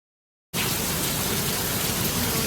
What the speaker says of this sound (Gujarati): જો ફૂલ વરસાદ ચાલુ થઈ ગયો છે.